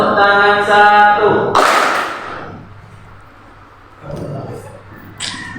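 After a short spoken prompt from a teacher, a classroom of students claps once in unison with a loud, sharp burst. Softer scattered noises follow a few seconds later.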